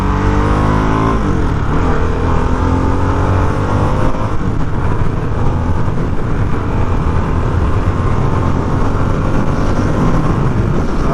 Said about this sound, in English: I want to push the RPMs a little bit more on this straightaway.